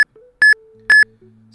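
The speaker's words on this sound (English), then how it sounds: "Stacks, we've located your beeps." Electronic beeps from a Pokemon FireRed and LeafGreen game stream: two loud, bright double-beep bursts about half a second apart, each followed by fainter low steady tones, with no talking.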